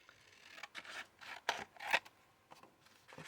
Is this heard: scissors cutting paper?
yes